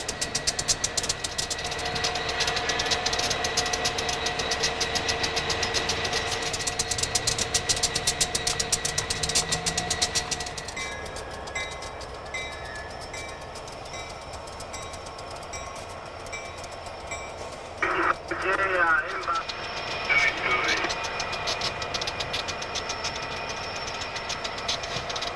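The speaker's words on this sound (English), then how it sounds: "This is local train number C90." Diesel locomotive of local freight train C90 idles with a steady throbbing engine drone and knocking, mid-distance; the tone shifts partway through and a few metallic clanks break in later.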